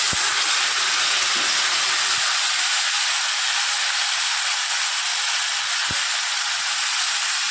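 Ginger-chili paste hitting hot oil in a pan while cooking a Bengali shot jhol, giving a steady, loud broadband sizzle that stays even throughout, with a couple of faint clicks and no talking.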